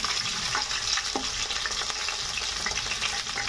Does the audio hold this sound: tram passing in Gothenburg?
no